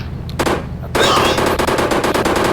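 Rapid automatic gunfire from a new gun in the Indian Bikes Driving 3D video game, a short burst followed by a longer sustained stream of loud, closely spaced shots.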